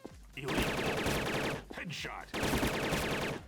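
Rapid bursts of automatic gunfire in the online shooter Wolfteam, loud close rattling volleys with a brief pause in the middle, a voice speaking faintly beneath.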